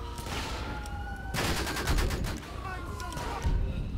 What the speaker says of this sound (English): he's gonna hop off he's gonna start shooting